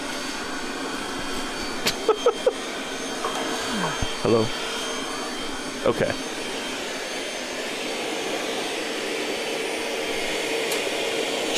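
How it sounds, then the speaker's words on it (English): Steady vacuum suction from a video game runs continuously as a broad whooshing roar, with a few brief clicks and a short spoken exchange over it. "Get in there with the vacuum."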